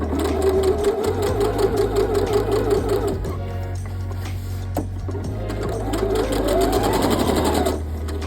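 A sewing machine back-stitches a denim dress seam, running loudly and steadily up close with a continuous mechanical hum. Its pace dips briefly midway before picking back up.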